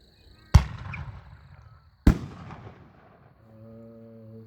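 Two sharp firework shell bursts, a brocade-to-blue effect, boom about a second and a half apart, each with a rumbling tail, loud and fairly near, followed by a faint steady tone.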